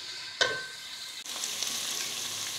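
Onions frying in a pan while being browned for a radish and fenugreek curry, a close steady sizzle that jumps as they are added and stirred, with no talking.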